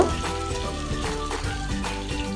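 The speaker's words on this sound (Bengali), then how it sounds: "ভেজে নিব।" Potato pieces coated in salt and turmeric fry in hot oil for fish-and-potato curry, a steady, loud, close sizzle with dense crackling throughout and no voices.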